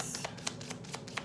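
Tarot cards being shuffled by hand, giving a quick run of soft papery riffles and light taps over about a second, close and fairly quiet with no talking.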